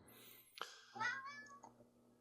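A single cat meows nearby, a short rising and falling call preceded by a faint chirp, in an otherwise quiet room.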